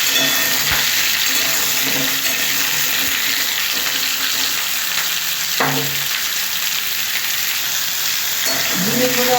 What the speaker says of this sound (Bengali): ঝিঙেগুলো আমি একটু হালকা করে ভেজে নিচ্ছি